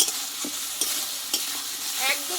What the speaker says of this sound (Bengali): একসঙ্গে মশলাটা ভালোভাবে আমি কষতে থাকবো